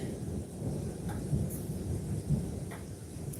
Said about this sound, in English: Did you see how that thunder was like crashing like that?